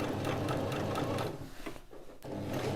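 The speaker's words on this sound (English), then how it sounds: "sewing all the way around." A sewing machine runs close up in a steady, rapid whir, stitching around the top edge of a gathered full circle skirt, briefly slowing and pausing before resuming at full speed.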